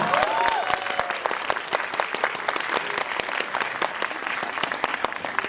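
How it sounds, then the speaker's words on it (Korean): Dense, sustained clapping from a cinema audience at a film screening Q&A at Lotte Cinema World Tower, steady and lively throughout without pause. "여러분 박수 한 번만 주세요."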